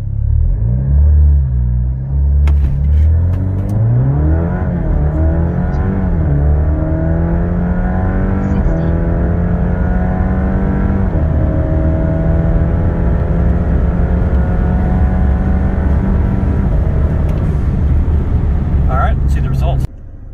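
Alfa Romeo Giulia 2.0L with a JB4 piggyback tune pulls hard through several gears, the engine note climbing and dropping at each shift under a steady road rumble, loud from inside the car, with a voice now and then.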